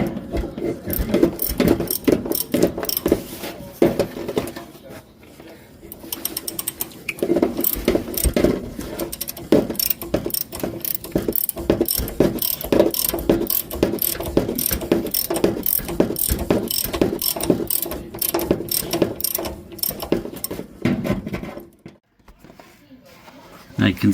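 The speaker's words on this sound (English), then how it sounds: "I'm going to use my socket and go a little faster if I can get it to fit." A socket wrench ratchets on a shock bolt of a 1965 Chevelle during a front shock replacement. Rapid clicking bursts run almost continuously, close and loud, with brief pauses in between.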